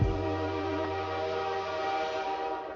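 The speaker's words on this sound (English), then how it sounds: "but the train sirens are coming" A steady, droning train horn holds one continuous blast for the whole stretch, fairly distant and rumbling with low harmonics.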